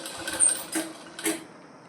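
A sewing machine stitches a petticoat slowly, running in a few short, halting bursts with brief pauses between them, close and moderately loud.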